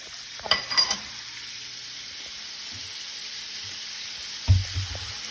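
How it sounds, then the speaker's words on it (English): Shrimp sautéing in a pan for shrimp and grits, giving a steady soft sizzle with a couple of brief utensil scrapes and knocks near the start and end. "we want to saute the shrimp until they're nice and pink"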